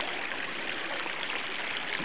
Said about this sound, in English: gurgling inside the tunnel